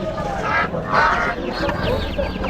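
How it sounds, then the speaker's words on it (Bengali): Chickens and chicks for sale at a busy pigeon market in Bangladesh, clucking and squawking close by amid the chatter of people talking. "অনেক মুরগি তো নিয়ে আসছেন বাচ্চাও আছে"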